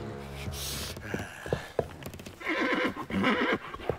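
A horse in an animated Russian folk-tale film whinnies loudly in a long, shaking neigh, followed by snorts and the clip-clop of hooves, with no talking.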